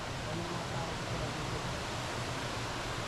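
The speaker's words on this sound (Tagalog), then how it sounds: "Look at that waterfall" Pahangog Twin Falls in Bohol gives off a steady, loud, close roar of falling water that fills the whole stretch without a break.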